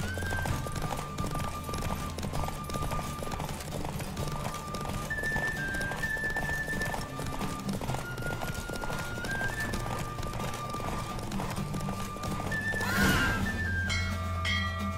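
Rhythmic hoofbeats of a galloping horse in a horse race in The Witcher 3: Wild Hunt, with a synthetic, game-like quality over a steady musical backdrop, ending with a brief whinny.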